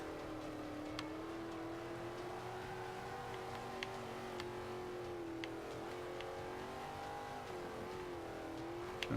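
A Class C Mercury Cougar race car in the Forza 5 video game accelerating, its engine note rising and wavering through the gears as a steady, continuous roar, with no voices.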